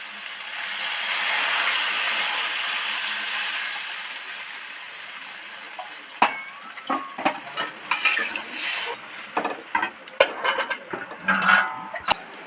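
Water poured into a hot pan of Bengali fish curry with katla, okra and spices gives a steady hiss and sizzle for several seconds, followed by scattered stirring, clinks of a spoon against the pan and bubbling.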